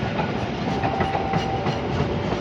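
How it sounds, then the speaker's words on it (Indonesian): Bangun Karta passenger train rolling into Cikampek station, a steady close rumble of wheels and wagons with soft clickety-clack over the rails throughout. "Bangun Karta masuk stasiun Cikampek."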